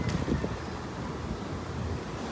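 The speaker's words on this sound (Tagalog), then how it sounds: "Ang lakas ng hangin ngayong umaga." Strong morning wind buffets the microphone outdoors with a steady, close, low rumble that surges slightly at the start and then holds even for a couple of seconds. No one speaks.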